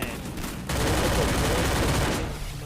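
Gunfire in the Free Fire battle royale game, a dense burst of rapid shots starting partway in and running loud and continuous to the end, with no talk over it.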